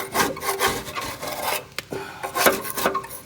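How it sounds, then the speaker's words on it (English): Grass is scraped off the underside of a mower deck in rough, rapid rasping strokes, close and fairly loud, with no one talking. "Would be scraping the grass off the bottom of the deck."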